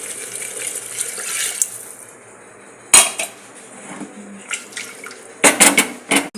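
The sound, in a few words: half glass of water poured into the vegetable pot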